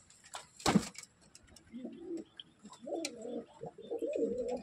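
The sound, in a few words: pigeons cooing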